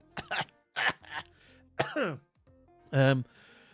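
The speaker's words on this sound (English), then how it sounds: "Oh God, I'm coughing." A few sharp, close coughs and throat-clearing bursts in quick succession, with short pauses between them, loud and near.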